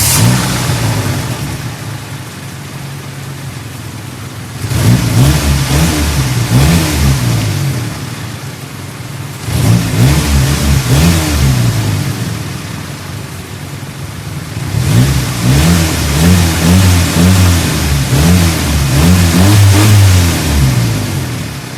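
A 2E car engine fitted with a contact point distributor starts in one try and runs, a loud close engine note with repeated rev surges between steadier idle stretches.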